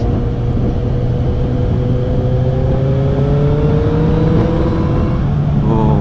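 A Kawasaki Z800 motorcycle engine hums steadily with rising revs through its exhaust, its pitch climbing gradually under a constant rumbling drone.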